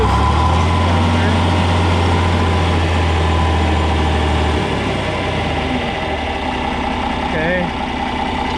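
A John Deere 4010 tractor running in second gear gives a loud, close, steady engine drone that shifts pitch partway through as the throttle is opened.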